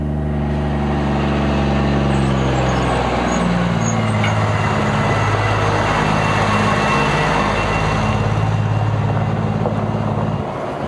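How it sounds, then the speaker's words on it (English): Bulk trucks hauling fertiliser on a remote South Island run rumble past close and loud, their diesel engines droning and shifting pitch through gear changes, with no talking. "the operation gains momentum as the trucks start heading back for"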